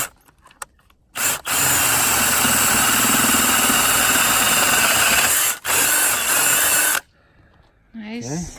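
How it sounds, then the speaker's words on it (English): A power drill bores 5/8 inch holes for 1/2 inch bolts through a wooden mud sill on an off-grid cabin build. It gives a loud, close, high whine in one long burst, a brief pause, then a shorter burst, followed by a faint voice. "So we got 1/2 inch bolts, so we're drilling 5/8 inch holes."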